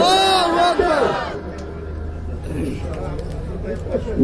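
A massed crowd at a Bangladeshi Islamic religious gathering shouts a loud chanted response in unison, the voices swelling together then giving way to a quieter murmur of people.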